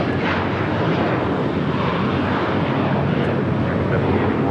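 An airliner landing or taking off at LAX gives a loud, continuous jet roar. The roar is broad and steady throughout, with no audible speech.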